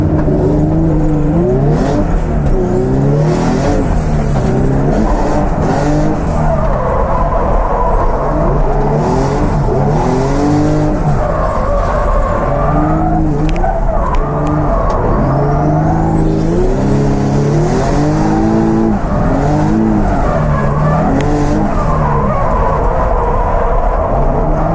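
A drift car laps the Teesside circuit, its engine revving up and down in repeated surging pulls as the clutch is kicked, loud and continuous.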